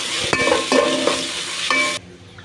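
Garam masala paste frying in a pan for a veg biryani, a dense crackling sizzle with a few stirring scrapes, cutting off abruptly near the end.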